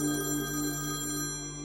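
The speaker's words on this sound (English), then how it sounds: "The phone rang." A telephone rings with a steady, bright electronic bell tone, heard once at moderate volume before cutting off, with no voices.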